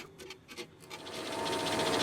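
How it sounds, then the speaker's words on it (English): A 1/4-40 thread is hand tapped into a metal part clamped in a machine vise, giving soft rhythmic rasping and scraping strokes that start faint and spaced and grow into a steady, closer grinding rub. "With the parts still firmly clamped in the machine vise, I thread it 1/4 by 40 threads per inch."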